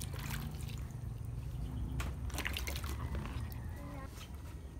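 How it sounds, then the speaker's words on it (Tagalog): Eggplants dipped and washed in water, with trickling and dripping splashes and soft sloshing throughout, fairly close and steady, over a low background rumble. "nilulubog namin sa tubig para maging malinis itong talong"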